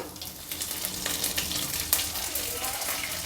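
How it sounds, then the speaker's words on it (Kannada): Mustard seeds with urad and chana dal sizzle in hot oil, a continuous close crackle with scattered sharp pops and spits, no talk over it. "ಎಣ್ಣೆ ಬಿಸಿಯಾಗಿದೆ ಸಾಸಿವೆ ಹಾಕ್ತಾಯಿದ್ದೀನಿ ಉದ್ದಿನಬೇಳೆ ಕಡಲೆಬೇಳೆ ಎರಡು ಮಿಕ್ಸ್ ಮಾಡಿ ಇಟ್ಕೊಂಡಿರೋದು ಸ್ವಲ್ಪ ಹಾಕ್ತೆ"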